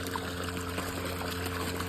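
Water poured from a tap for mixing an organic bio-pesticide spray against stem borer, a steady, close trickling flow that runs unbroken and alone throughout.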